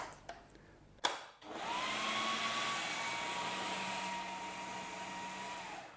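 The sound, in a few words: blender blending almonds into almond butter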